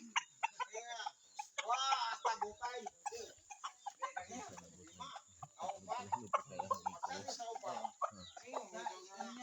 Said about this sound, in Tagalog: ito yung tandang, pangsabong